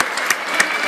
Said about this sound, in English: We'll head out, get a round of applause